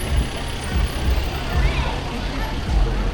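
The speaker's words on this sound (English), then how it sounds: "Man, you hear so many nice cars." Traffic, including Ferraris, rolls along a busy London luxury shopping street, a steady rumble of passing vehicles with engine swells, heard near and moderately loud while people talk over it.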